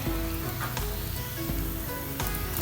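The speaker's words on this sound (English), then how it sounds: "So now the first thing which goes in is shallot in a medium flame." Shallots frying in oil over a medium flame for homemade sambal, a steady crackling sizzle with a few faint tonal clinks, close and continuous with no talking.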